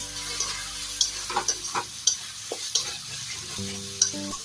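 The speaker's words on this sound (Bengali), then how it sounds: "মশলার গা থেকে যতক্ষণ না তেল ছেড়ে আসে ততক্ষণ মশলাটা কষিয়ে নেব" Chili powder and spices fry in hot oil for a rohu fish curry, with a steady sizzle and repeated scraping stirs of a spoon against the pan, close and alone.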